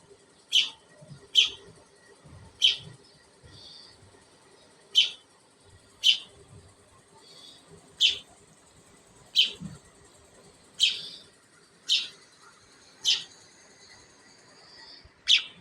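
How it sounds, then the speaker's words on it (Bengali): Repeated sharp, high chirps of baya weaver birds at steady intervals, about a dozen calls, fairly close, over a quiet background with faint low thumps. "এই হচ্ছে বাবুই পাখি ওটার বাবুই পাখি"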